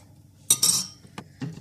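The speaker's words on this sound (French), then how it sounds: "Donc je vais touiller à présent." A fork clinks against a bowl while stirring olive oil and lemon juice, a few short metallic taps and scrapes close by, with no talking.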